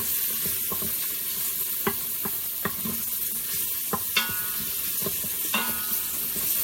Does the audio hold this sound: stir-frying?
yes